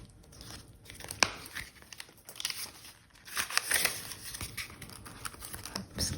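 Paper envelope rustled and crinkled while a 10 euro banknote is slipped inside, with soft irregular tearing-like crackles and taps through the whole stretch, close and fairly quiet.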